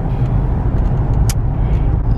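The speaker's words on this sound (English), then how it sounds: "This is the traffic right now." Steady road traffic rumble with a continuous low engine drone and a brief hiss near the middle, heard close and fairly loud with no talking.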